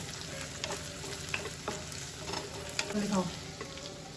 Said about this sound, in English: And I'm gonna fry them now.